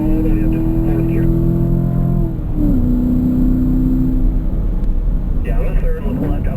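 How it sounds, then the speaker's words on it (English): A car on a racing track accelerates hard up through the gears to fourth, the engine note climbing steadily, dropping at each shift and rising again, with a voice talking over it. "Squeeze it down all the way up to fourth gear."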